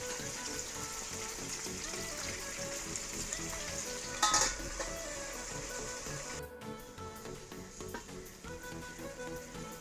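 Salted chicken cooks in a covered pan over medium flame, giving a steady sizzle and frying crackle throughout, with a brief clatter partway through.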